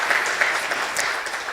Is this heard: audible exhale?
no